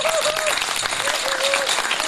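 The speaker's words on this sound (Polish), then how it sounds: "Chciałbym państwa prosić o szczere brawa" Audience in a hall at an international Chopin piano competition event claps steadily in a dense, even round of applause, with faint tonal whistle-like sounds mixed in.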